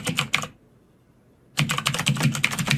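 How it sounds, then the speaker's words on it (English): Fast typing on a computer keyboard: a quick burst of clattering keystrokes, a second of near silence, then a longer, louder run of rapid clicks close to the microphone, with no voice. "I'll just use a comma on my keyboard"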